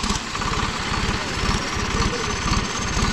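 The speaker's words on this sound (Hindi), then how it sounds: "चल भाई चला एक बार चला के देखा ट्रैक्टर थोड़ा सा।" A Massey Ferguson 8055 Dynatrac tractor engine with a newly fitted turbocharger runs steadily up close, its low, rhythmic diesel thrum pulsing evenly throughout with a faint hiss above.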